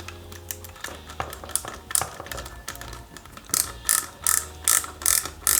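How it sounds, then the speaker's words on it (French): A ratcheting screwdriver clicks as it drives two screws fixing the interior into a 1/8-scale Pontiac Firebird KITT model kit, the dense rapid clicks coming in bursts with louder, sharper ratchet strokes toward the end. "attention avec bien sûr le tournevis à cliquer, c'est très bien le tournevis à cliquer"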